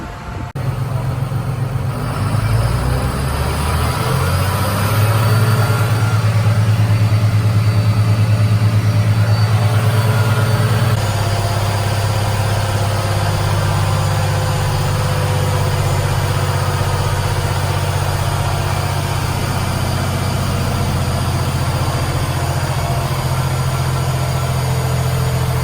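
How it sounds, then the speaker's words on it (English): A tuned farm tractor's engine runs on a dyno, a loud sustained low drone that steps up in pitch and load as it revs, holding steady with vibrating mechanical hum and no voices. "And then now they're going to dyno this tractor again to see how much horsepower was added."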